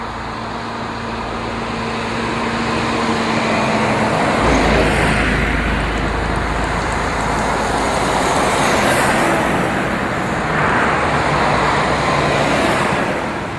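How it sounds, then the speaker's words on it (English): An Alexander RH-bodied Volvo Olympian double-decker bus, built in Belfast for Dublin service, drives past at a bus show with a loud, close diesel rumble that builds, holds and slowly fades, with no talking. "Silverdale's Alexander RH-bodied Volvo Olympian RH205, built in Belfast for use in Dublin."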